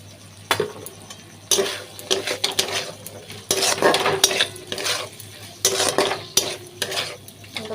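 A spatula scrapes and stirs raw green peas with green chilies and asafoetida in a hot kadai, giving repeated rhythmic scraping strokes over a soft sizzle, close and fairly loud.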